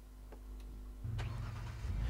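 A three-wheeled car in DayZ cranks and its engine catches, a low idle rising into a steady mid-pitched running rumble, fairly quiet and alone.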